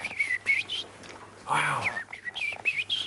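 A man whistles an imitation of the opening phrases of a blackbird's song, short warbling bursts with brief pauses, and another voice briefly exclaims in between.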